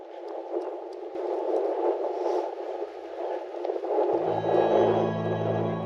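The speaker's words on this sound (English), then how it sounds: "Sorry about all the wind noise, it was blowing an absolute gale." Strong gale wind buffeting the microphone on the rugged Northumberland coast between Craster and Dunstanburgh Castle, a constant loud roaring rumble throughout, with a tonal hum entering near the end.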